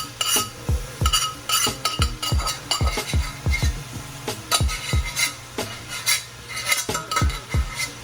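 A metal spoon scrapes and clinks repeatedly against a pot, scooping out Jamaican ackee and saltfish. The knocks come close and loud in an uneven rhythm, with no talking over them.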